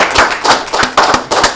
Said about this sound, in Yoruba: ẹ tẹ pàtẹ́wọ́ yẹn náà